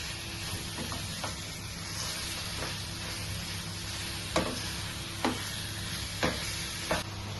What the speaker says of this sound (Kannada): ಇದನ್ನು ಹಾಕಿ ಒಂದು 5 ನಿಮಿಷ ಮಿಕ್ಸ್ ಮಾಡ್ಕೊಳ್ಬೇಕು ಚೆನ್ನಾಗಿ